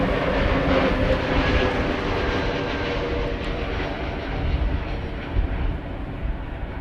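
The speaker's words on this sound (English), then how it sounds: "It's an A321neo EasyJet" An easyJet Airbus A321neo lands at Amsterdam Schiphol, its engines giving a loud, rumbling roar with low gusty swells that holds steady and close throughout.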